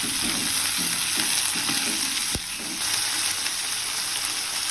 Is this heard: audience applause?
no